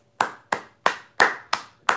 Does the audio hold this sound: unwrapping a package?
no